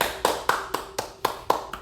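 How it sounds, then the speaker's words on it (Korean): Eight sharp hand claps at a steady, slightly uneven rhythm, each a crisp close snap with a short decay, with no talking over them. "박수 쳐드릴게요."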